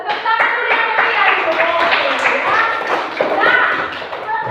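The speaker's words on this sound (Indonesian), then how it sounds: "Tepuk tangan dulu yang kalian." Children in a classroom clap as a group, a loud, busy burst of clapping with taps and thumps, mixed with excited kids' voices and laughter close by.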